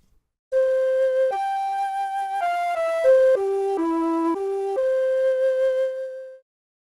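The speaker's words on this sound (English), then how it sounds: "here's what the flute sounds like without any reverb" A dry, breathy flute plays a slow melody of sustained notes stepping up and down, with no echo, ending cleanly into silence.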